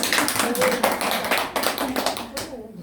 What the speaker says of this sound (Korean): 박수 한번 쳐드려요